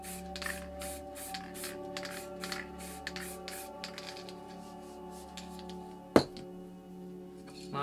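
A Montana Gold spray paint can hisses in a series of short, close bursts of spraying, followed by a sharp knock and then quieter hissing.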